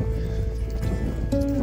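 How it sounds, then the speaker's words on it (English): Horses being ridden outdoors in São Miguel do Gostoso, Brazil, clip-clop along with faint hoof knocks under a steady low rumble, and a brief tonal whinny-like sound near the end. "Riding some horses here"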